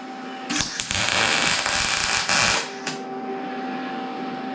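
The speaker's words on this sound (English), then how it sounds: "Start your weld right there and go across." A welder lays a short bead during the interior install of a Henry J Gasser project car, making a loud crackling buzz of about two seconds followed by a brief zap against a steady background hum.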